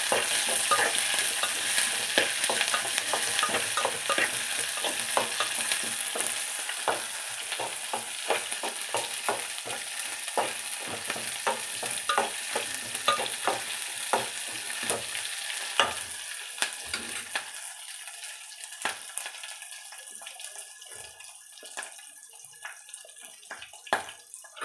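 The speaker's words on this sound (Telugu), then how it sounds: "ఉల్లిపాయలు కొంచెం వేగిన తర్వాత పచ్చిమిర్చి కూడా వేసి కలుపుకోవాలి." Onions and green chillies fry in a pan while being stirred, a steady sizzle broken by repeated scraping strokes of the spoon, close and continuous throughout with no talking.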